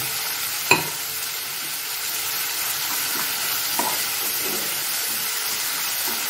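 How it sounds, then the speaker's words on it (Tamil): Ginger garlic paste sautéing in a hot pan, a steady soft sizzle and hiss with a sharp clink of a spoon early on and a few light scraping stirs, no talking. "நல்லா பச்சை வாசம் போகிற அளவுக்கு இஞ்சி பூண்டு பேஸ்ட்டு நல்லா வதங்கட்டும்"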